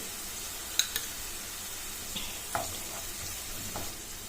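Vegetables and chopped spring onion stir-frying in a pan for soya chunk fried rice, a soft steady sizzle broken by a few sharp scrapes and knocks of the spatula, fairly quiet and with no talking.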